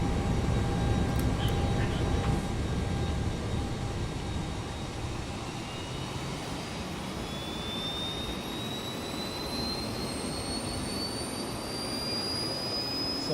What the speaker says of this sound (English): APU flap opening.